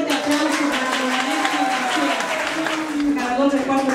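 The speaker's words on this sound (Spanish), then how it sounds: "Un fuerte aplauso para Melesio García, ganador del cuarto" At a song contest, the audience applauds the fourth-place winner, with clapping running under loud voices and crowd noise for the whole stretch.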